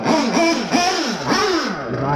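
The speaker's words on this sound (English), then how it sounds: "Just idling for a bit." A radio-controlled car engine fitted with a Walbro WT-1242 carburetor, on a Mugen car in drizzly weather, runs close by with a buzzing note that swells and dips in repeated short surges rather than holding steady.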